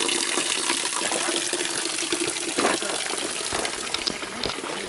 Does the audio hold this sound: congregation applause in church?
no